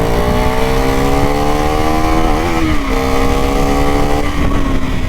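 A KTM Duke 390 BS3 motorcycle engine drones loudly and steadily while riding, its pitch rising slightly and then dipping as the throttle shifts, close and continuous throughout.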